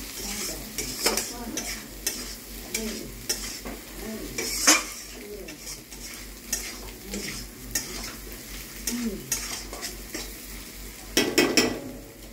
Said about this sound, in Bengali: তারপরে দিয়ে দেবো আলুটা দিয়ে নেড়ে নেড়ে একটু নেড়ে নেব।